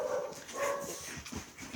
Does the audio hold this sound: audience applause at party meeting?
no